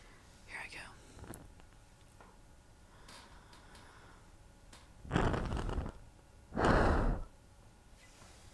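A soft close breath blowing out a flame, two strong breathy gusts near the end after quiet whispery breathing and faint rustles, intimate and close.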